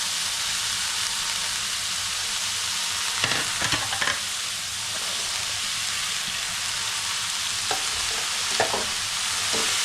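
Kantoli, a wild vegetable, is being stirred and mixed in a pan while it cooks, giving a steady sizzle and hiss with a few scraping stirs in the middle and near the end, and no talk.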